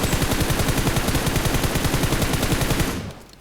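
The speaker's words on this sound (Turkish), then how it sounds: "Çatışma ses, silah sesleri geliyor." Rapid automatic gunfire from a PUBG Mobile battle royale match, a dense, loud stream of shots in a steady rhythm that continues for about three seconds and then cuts off abruptly.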